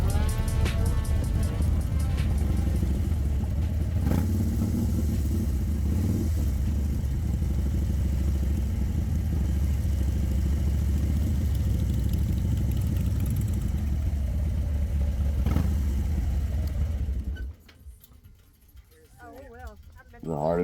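Motorcycles rumble in a low, continuous idle as they roll up to a motorcycle rally, with voices talking over the engines. The engines drop away near the end.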